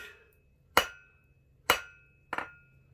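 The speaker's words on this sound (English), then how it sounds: "I'll flatten it out with a flat surface of my hammer" Three sharp metallic hammer blows flattening copper at an unhurried, even pace, each ringing briefly, close and clear with no voices.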